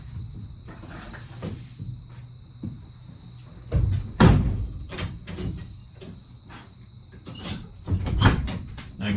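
A camper door on a U-Haul CT-13 trailer under restoration: a series of irregular knocks, rattles and thuds as it is worked shut, close and moderately loud, with a faint steady high whine in the background.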